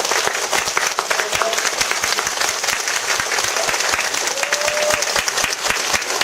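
Sustained applause from an audience at a Korean studies lecture event in Yeongju, dense steady clapping throughout at full level.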